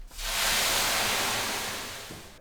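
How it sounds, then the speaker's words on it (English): Hot water hitting the bottom of a 450-degree oven while baking Jewish sourdough rye bread, giving a loud, broad rushing hiss of steam that swells quickly and slowly fades over a couple of seconds, with no voices. "Now what I do is add some hot water into the bottom of the oven."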